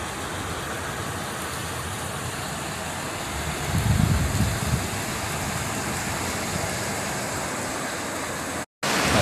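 Dense, steady rain pours with a constant broadband hiss, swelling briefly louder midway, then cuts out for a moment near the end.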